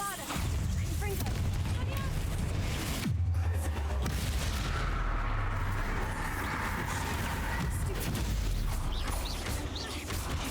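Explosive spells cast in the Hogwarts Legacy video game, loud booming blasts and crackling impacts filling the whole stretch over dense game music and effects, with a sharp burst near the start and another around three seconds.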